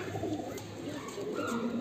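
Madrasi pigeons coo at a pigeon seller's in Delhi Cantt, soft overlapping throaty coos close by against a steady background murmur.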